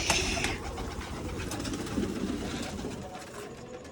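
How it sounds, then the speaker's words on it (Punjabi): Pigeons coo and flutter nearby over a steady outdoor background, with a few sharp clicks and rustles. "ਆ ਗਏ ਵੱਡੇ ਖੋਡੇ ਵਾਲੇ ਕਬੂਤਰ"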